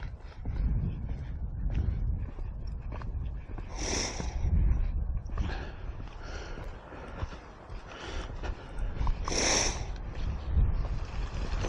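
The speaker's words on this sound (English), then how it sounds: "Well, over the past few minutes, the wind has picked up" Wind gusts across an exposed North Atlantic coastal path, rough low rumbling buffets against the microphone with a couple of sharper hissing surges, continuous and fairly close.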